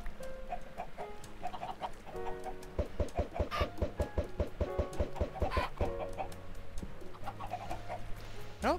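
Video game chickens cluck in rapid, repeated bursts over a steady background hum, forming a busy, rhythmic chorus that swells in the middle and thins out toward the end, in a Minecraft-style farm game.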